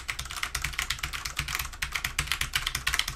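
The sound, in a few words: typing on Rosewill mechanical keyboard, Cherry MX Brown switches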